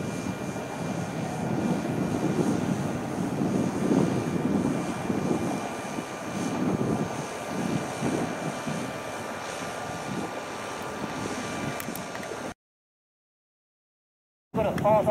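Light aircraft engine held at a steady, constant RPM during a flight over the sea, a loud, even drone lasting about twelve seconds before cutting out briefly, then returning.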